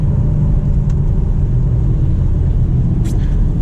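A 2021 BMW M4 G82 with manual gearbox cruises along, its engine a steady low rumble heard from inside the cabin, even and continuous with faint road noise and no speech.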